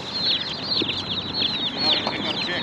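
Meat-breed chicks peep in a dense, high-pitched chorus with occasional soft clucks mixed in, close by and continuous, with light background murmur.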